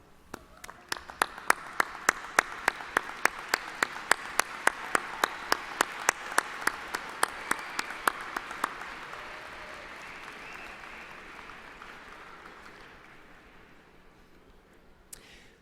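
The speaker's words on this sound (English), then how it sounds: "standing, turning, and giving them a well-deserved round of applause" A graduation audience stands and applauds parents, families and friends in an arena, beginning with sharp rhythmic unison claps and settling into a broad, sustained wash of crowd applause that fades gradually.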